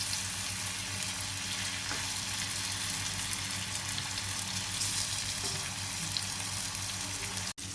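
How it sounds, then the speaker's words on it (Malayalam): Boneless charcoal chicken pieces frying in a pan, giving a steady, close, even sizzle throughout with one brief thump near the end and no talking. "അപ്പോൾ നമ്മുടെ ചിക്കൻ എല്ലാം നല്ല ഫ്രൈ ആയിട്ടുണ്ട്"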